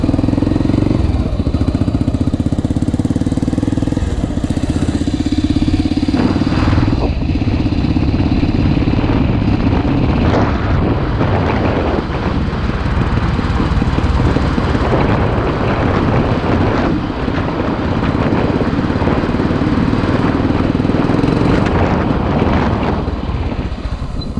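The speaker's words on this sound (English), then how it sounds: "sounds like a tractor more than a motorcycle" A motorcycle engine runs steadily and loudly throughout, with a low, chugging, tractor-like tone and some wind buffeting, and no talking over it.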